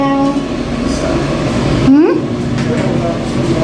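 Steady air-conditioning blower hum fills a hotel room, a constant broadband drone running under the whole moment, with a brief rising tonal sweep partway through and a voice talking over it.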